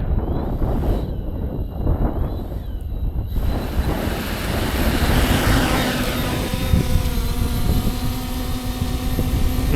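An FPV drone with two-blade propellers flying, starting with rushing wind noise, then a steady, loud, high-pitched propeller whine with harmonic tones that rises and shifts as the drone moves.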